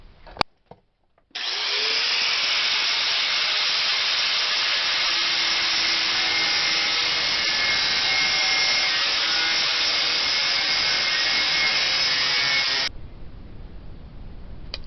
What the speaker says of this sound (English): So I'll go ahead and get my angle grinder with a cutoff wheel set up,